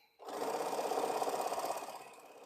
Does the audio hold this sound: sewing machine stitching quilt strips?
yes